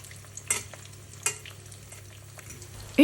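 Chicken tenders deep frying in hot oil, giving a soft, even sizzle with a few sharp crackles and clinks as pieces are turned, ending on a brief louder knock.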